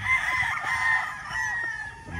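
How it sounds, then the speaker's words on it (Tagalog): Game fowl roosters at Livestrong Game Farm crow in a sustained, fairly loud call, with clucking and farm background noise underneath and no talk. "napakagwapong mga manok mga boss"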